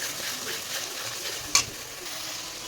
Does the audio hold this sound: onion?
yes